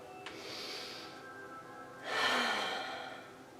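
Slow breaths during a yoga class: a soft exhale followed a moment later by a fuller, louder breath, quiet and close with no talking.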